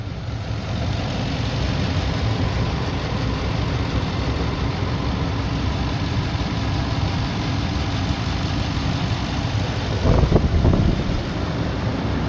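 A 2005 Toyota Tundra Limited 4x4 with over 304,000 miles idling steadily, a smooth continuous engine drone heard up close with no talking, and a brief bump near the end.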